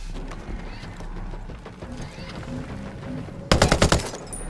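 A turret's machine gun opens up in a rapid burst of loud, close gunfire late in a Ghost Recon Breakpoint firefight, after several seconds of low ambient game rumble.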